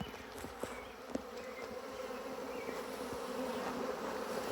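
A honeybee swarm clustered on a branch hums with a steady, dense drone that holds throughout, a few nearer bees flicking past in brief louder passes.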